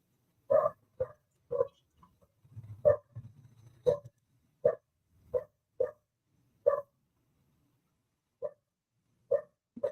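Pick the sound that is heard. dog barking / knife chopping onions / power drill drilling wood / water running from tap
dog barking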